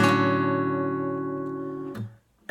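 A single strummed acoustic guitar chord from a song rings out and slowly decays for about two seconds, then is damped abruptly, close and clear with no voice.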